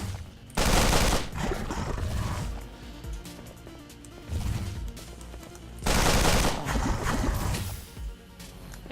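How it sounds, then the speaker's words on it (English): Bursts of assault weapon fire in The Pit video game, two loud sustained volleys with rapid repeated shots and quieter crackling between them, no talk. "let's bust it up with my assault weapon"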